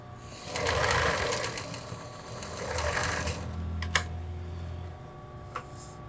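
A domestic sewing machine stitches a seam in fabric for a short skirt, its needle motor whirring in two steady bursts, followed by a couple of sharp clicks as the machine stops.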